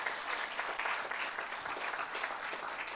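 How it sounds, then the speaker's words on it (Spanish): Congregation at a Spanish-language church service clapping, a steady, fairly faint wash of applause without voices. "Un aplauso al Señor."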